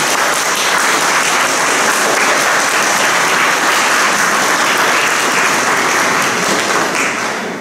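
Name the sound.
audience applause signalling assent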